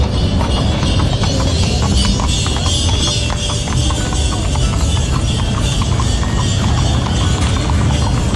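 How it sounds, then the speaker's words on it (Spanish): Hooves of a horse-drawn carriage clip-clop on pavement at the Feria del Caballo in Jerez de la Frontera, a steady rhythmic clatter, close and loud, over a busy fairground bustle. "Aquí viene un precioso coche de caballos."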